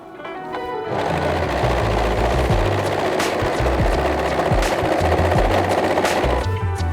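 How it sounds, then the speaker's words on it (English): An overlocker runs steadily, stitching the crotch seam of a pair of dungarees with a 1.5 cm seam allowance. The machine hum is loud and close, starts after a short pause and carries on for several seconds with a busy, rattling whir. "Jump on the overlocker."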